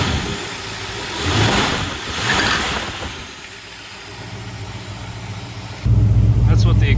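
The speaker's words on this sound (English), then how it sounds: "That's what the exhaust sounds like on it. Dual exhaust" A 1968 Ford Ranchero V8 engine with dual exhaust rumbles close by, revving up twice in quick swells, settling to a low idle, then growing louder and throatier near the end.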